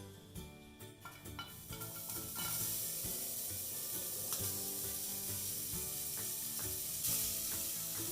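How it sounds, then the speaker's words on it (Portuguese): Onion sizzles steadily in hot olive oil in a pan with occasional clinks and scrapes of a utensil, continuous and close, while making a francesinha sandwich. "Enquanto a cebola está refogando"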